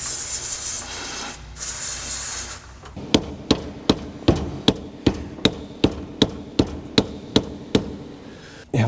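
A plastic hammer strikes a steering rack adjustment bolt on a Ford Fox Body Fairmont during a manual steering rack installation, landing about a dozen sharp, evenly spaced blows after a stretch of quieter shop noise.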